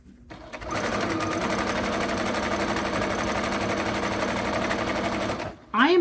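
A sewing machine stitching fabric for an armchair caddy runs in one steady, rapid mechanical chatter for several seconds, close and loud, then stops abruptly as a voice begins.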